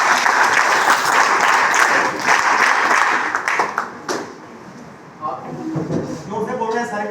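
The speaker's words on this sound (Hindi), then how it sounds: "जोरदार ताली।" Loud applause from an audience at a college gathering in Barghat, dense clapping that fills the first few seconds and then fades, after which a voice speaks.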